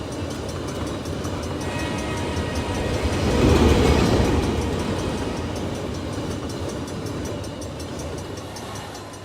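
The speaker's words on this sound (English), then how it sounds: "So hopefully the train will be passed through over here." A CSX locomotive hauling a train past a railroad crossing in the simulator RO-Scale, a continuous rumble with rhythmic wheel clatter that builds as it draws near, peaks in the middle and slowly fades.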